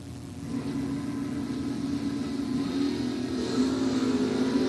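Drag race cars launching at a bracket nationals event, a Dodge Avenger alongside a white Pontiac, with a steady loud engine roar and rumble that swells slightly toward the end, no talk over it.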